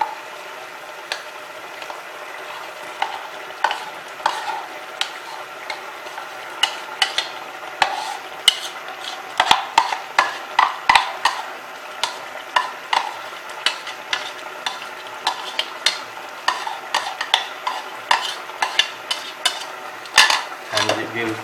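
Meat Madras simmering in a pot, uncovered with tomato and onion paste going in, a continuous soft sizzle broken by frequent sharp scrapes and clinks of a metal spoon against the pan, with a louder clatter toward the end.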